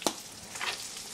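Chinese cured-meat fried rice stir-fries in a wok, with a sharp scrape at the start followed by a soft, close sizzle and light tossing.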